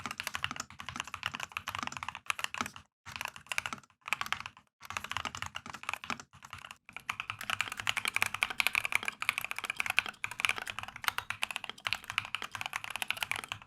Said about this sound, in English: it's the sound test of the keycaps on the same board, same switches.